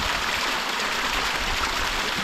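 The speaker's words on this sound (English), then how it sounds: "There's a little bit of a waterfall on the rocks up there" A small waterfall spilling over rocks high on Snowdon gives a steady, dense rushing hiss, close and constant throughout with no pauses or voices.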